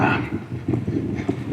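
Hooves of a futurity colt clip-clopping on ranch ground at J Five Ranch in Weatherford while it works a cow, a steady loud patter of irregular steps close by with no talking.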